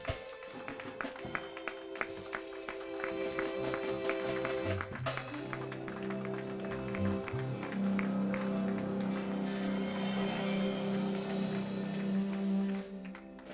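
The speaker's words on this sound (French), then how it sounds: "Je vous demanderai d'applaudir l'Éternel." A church congregation applauds during a Sunday service, with dense sustained clapping lasting about eight seconds over held musical tones, then stopping abruptly.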